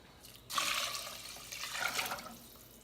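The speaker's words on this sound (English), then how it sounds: "So now we gotta put it in the water so it can allow it to cook fully." Water pouring and splashing into a pot of rice being prepared for cooking, a sudden rush that starts abruptly, stays fairly loud and steady, then surges again before easing off, with no talk over it.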